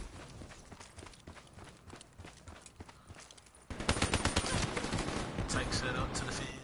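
Burst of gunfire in the Black Ops 3 multiplayer shooter, quieter at first and then loud, dense rapid shots over a player's voice talking.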